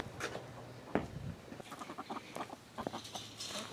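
Several chickens cluck and chatter in short, irregular bursts close by, with small rustling and scratching sounds in between.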